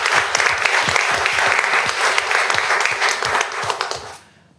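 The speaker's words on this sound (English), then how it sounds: "So will you please join me in giving Senator Durbin a round of applause" An audience at a community college board of trustees meeting applauds Senator Durbin, with dense, loud, sustained clapping for about four seconds that then quickly fades out.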